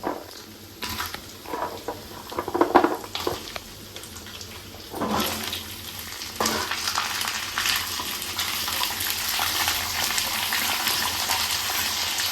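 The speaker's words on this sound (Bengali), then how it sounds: "এখন পেঁপে আর আলুটা খানিকক্ষণ ভেজে ঢেকে ঢেকে সেদ্ধ করে নেব" Chopped papaya and potato sizzle loudly as they fry in a pan, with scraping and stirring clatter breaking in irregularly, then settle into a continuous close frying hiss.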